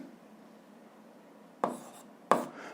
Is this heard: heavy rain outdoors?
no